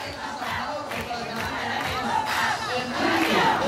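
At a children's parade, a crowd shouts and cheers through a school chant. The voices are loud and blended, with continuous hubbub and rising shouts.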